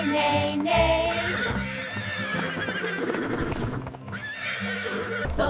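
Horse whinnies ring out amid a bouncy children's farm-song backing track, with a clip-clop rhythm running underneath; the neighs are loud and close, repeating in quick succession.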